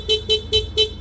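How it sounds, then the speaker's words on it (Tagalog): Four short, evenly spaced beeps from the stock horn of a Yamaha Aerox V2 scooter sound in quick succession, close and clear, with no voices. "yung stock horn yung tutunog na busina ni sir."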